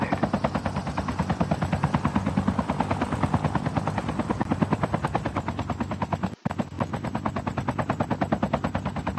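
Helicopter arriving in a Call of Duty battle royale match, a steady loud rotor chop pulsing throughout with gunfire-like rattling mixed in and a brief dropout near the end.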